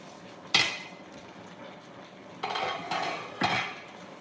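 A spoon knocks and scrapes against a pot of fish pepper soup with potatoes, one sharp clank followed by a pause, then a few more scraping strokes, close and fairly loud with no voices.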